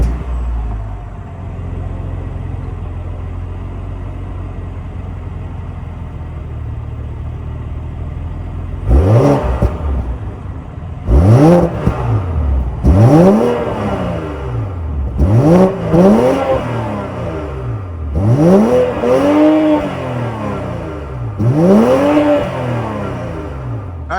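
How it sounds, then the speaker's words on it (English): A 2022 BMW X5 40i with a 3-liter twin-turbo engine settles at a low idle, then blips its throttle about six times, each rev swelling and falling away, heard close up. "that was of course the sound of the 3-liter twin scroll turbo sold by BMW for the X5"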